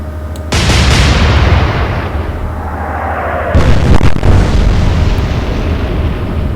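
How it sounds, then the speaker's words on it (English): Naval guns fire a salvo in a World War II Atlantic naval combat game: a loud deep boom, rolling rumble, then a second heavy blast of impacts. "Another good salvo."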